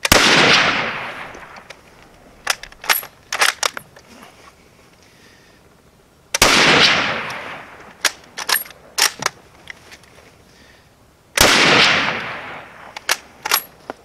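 Three loud rifle shots from a Czechoslovak vz24 Mauser firing old surplus ammunition, each a sharp crack with a long decaying tail, followed by bursts of metallic bolt-action clatter, with no talking.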